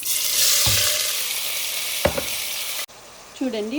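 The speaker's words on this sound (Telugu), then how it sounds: "నేను కుక్కర్లో ఒక గరిటెడు మస్టర్డ్ ఆయిల్ వేసాను. ఇప్పుడు నూనె కాగింది. ఉల్లిపాయ పచ్చిమిరపకాయ ముక్కలు వేస్తున్నాను." Chopped onion and green chilli hitting hot mustard oil in a pressure cooker give a loud, steady hiss with a couple of clanks from a spoon. The sizzle then drops suddenly and a softer stirring follows.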